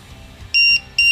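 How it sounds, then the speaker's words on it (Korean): A battery checker beeper on a 6-cell 22.2-volt RC car battery gives two short, loud, high electronic beeps close up, the second cut off at the end. "삐삐를 여기 붙이시면 배터리가 있는지 없는지 알 수가 있겠죠"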